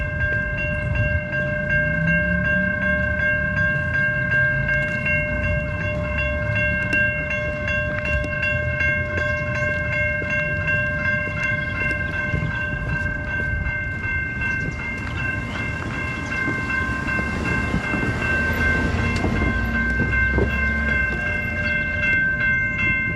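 A train rolls steadily along rails for a long stretch, with a constant rumble, wheel noise and sustained high tonal squeal or whistle, no talking.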